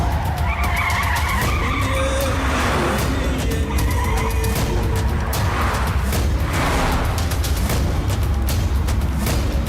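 Car speeding and skidding through a Hindi-dubbed action film chase, with repeated tire squeals and engine roar over a loud, dense mix of impacts and chase music, filling the whole stretch with no talk.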